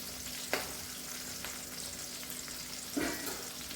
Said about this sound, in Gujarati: ડુંગળીનો કલર સેજ બ્રાઉન થાય ત્યાં સુધી આપણે ડુંગળીને ચડવા દઈશું।